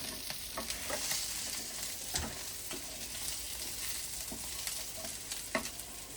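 Fish pieces sauté in a hot pan with a steady sizzle, broken by scattered scraping stirs and light clinks, close and moderately loud with no voices.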